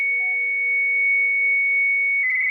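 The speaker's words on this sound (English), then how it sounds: "It starts off the modem sound." Steady electronic tones hold flat and continuous, with a brief higher beep near the start and a slight shift at the end, like a modem handshake.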